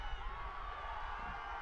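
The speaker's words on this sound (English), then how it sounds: "and the crowd getting into it as well" Spectators at a men's college lacrosse game between Ohio State and Hofstra cheer and shout as a steady, fairly distant crowd roar that fills the arena without pause.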